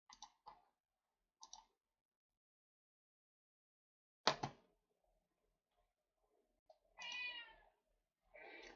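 Cat meows several times up close in a quiet room, short calls separated by silence, with a sharp click and a longer drawn-out meow near the end.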